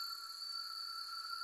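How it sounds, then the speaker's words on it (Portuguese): Cicadas sing in the Brazilian cerrado at dusk, a steady, shrill, continuous drone with layered high tones that holds level and fairly loud the whole time, with no voices over it. "Olha só as cigarras cantando, olha"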